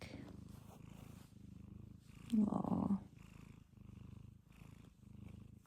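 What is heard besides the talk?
kitten purring during cuddles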